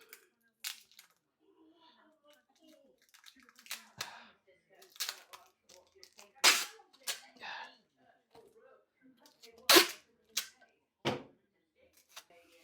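Packing tape is ripped from the roll and pressed onto a bubble-wrapped vinyl record in several sharp, scattered tearing bursts, with quiet talk in between.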